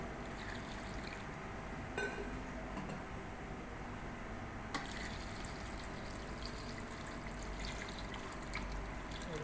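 Water poured into a pot over pumpkin pieces for a candied pumpkin dessert: a steady, continuous rushing pour, close and fairly loud throughout, with a couple of small knocks.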